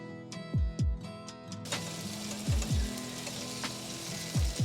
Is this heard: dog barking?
no